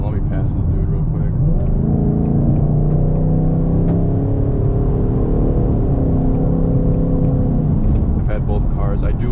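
A Ford Mustang's engine revs up hard as the car accelerates to pass another vehicle on the road, a loud, steady, rising roar heard from inside the cabin with no talk over it.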